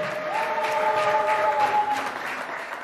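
A congregation at a French-language church gathering applauds and cheers, with loud continuous clapping and sustained voices rising above it throughout.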